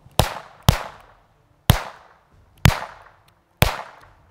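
Firecrackers (petards) set off at close range: five sharp, loud bangs at uneven intervals, each ending in a quick fading crackle, with near-silence between them.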